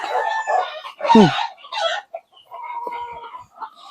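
Golden Boy gamefowl, a straight-bred backyard rooster and hens, cluck and crow up close in loud overlapping calls, with one short crow rising out of the clucking.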